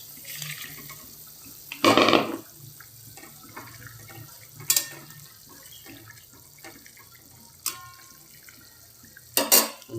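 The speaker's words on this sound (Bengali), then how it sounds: "জলটা ফুটে এসেছে এবার দিয়ে দেব মাছ" Pieces of rohu fish go into boiling water for a thin curry, with a loud burst of splashing and clattering near two seconds, then softer pot and utensil knocks and a few sharp clinks over a low simmering hiss.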